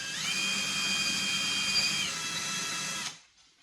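A small power drill with a wood bit whines steadily as it bores partway into wood for a wall-mounted bar shelf, loud and close for about three seconds before spinning down and cutting off.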